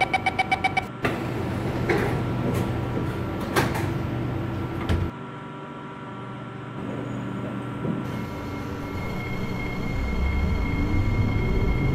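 An SMRT C751B train in the OpenBVE simulator, running from Newton toward Marina South Pier, with a continuous rumble and motor hum that rises and falls, broken by a few sharp clunks early on.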